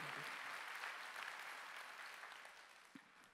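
A church congregation at Sunday worship claps together, a soft, distant wash of applause that slowly fades toward the end.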